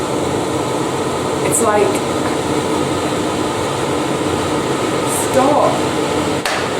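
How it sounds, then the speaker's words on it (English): A loud kitchen extractor fan that recirculates rather than venting outside runs with a steady, dense whooshing roar, while a person speaks briefly over it. "It doesn't actually extract to the outside, so it just makes a whole lot of noise."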